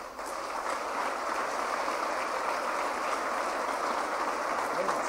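Steady crowd applause at a church service fills the whole stretch, dense and even, a large congregation clapping continuously without pause.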